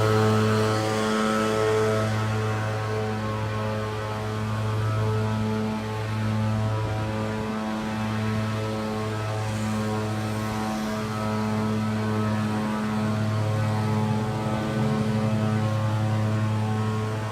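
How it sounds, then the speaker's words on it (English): Leaf blower running outdoors along a beachside avenue, a steady loud engine drone with a sustained low hum and overtones, continuous and close for the whole stretch with no talking. "I'm gonna have to get past this guy on the blower"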